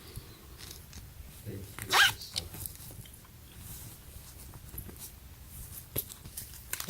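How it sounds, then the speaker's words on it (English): A zipper on a pair of jogger pants is pulled in one short, quick zip, quiet and close, followed by faint handling rustles. "Ooh, zipper."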